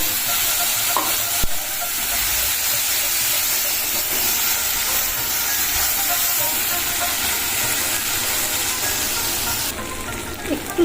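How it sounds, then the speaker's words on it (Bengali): A spice paste of tomato, chilli and ginger hits hot oil and fries with a loud, steady sizzling hiss, close up, with occasional stirring scrapes and a sharp knock near the start. "দেখো মশলাটা তেলের মধ্যে দিয়ে দিলাম"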